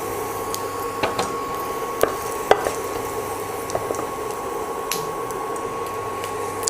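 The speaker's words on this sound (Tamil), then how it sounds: "ஆயிலெல்லாம் ஹீட் ஆகிட்டு நான் 1/2 டீஸ்பூன் சோம்பு எடுத்திருக்கேன் தாளிக்கிறதுக்காக." Half a teaspoon of fennel seeds sizzles in hot oil for tempering a South Indian moong dal curry, a steady soft frying hiss with scattered sharp pops and crackles, close and unaccompanied by talk.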